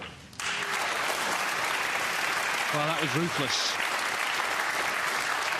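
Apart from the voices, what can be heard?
audience applauding a snooker century break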